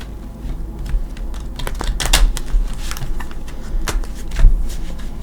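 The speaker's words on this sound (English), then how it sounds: "I'm going to give him a shuffle." Tarot cards being shuffled by hand, a run of quick crisp riffling clicks and soft flutters, close up and fairly loud.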